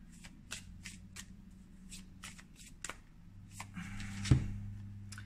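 Tarot cards are shuffled by hand in a quiet room, giving a quick series of soft papery riffles and flicks, then a firmer flurry and a tap near the end, all fairly faint with no voices.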